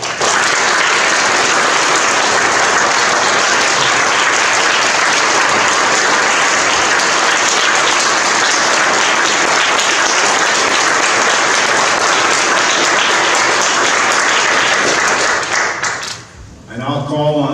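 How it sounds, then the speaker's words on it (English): An audience at an Eagle Scout honor court gives a long, loud, dense round of applause for a new Eagle Scout. The clapping holds steady for about sixteen seconds, then fades out abruptly. "Let's give our new Eagle Scout one more round of applause."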